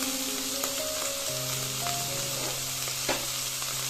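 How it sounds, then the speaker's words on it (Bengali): Ginger, garlic and onion frying in oil for a village-style egg curry, giving a steady, close, continuous sizzle with a few faint stirring knocks and a low background hum. "আদা রসুন পেঁয়াজ দিয়ে একটু কষিয়ে নিয়েছি।"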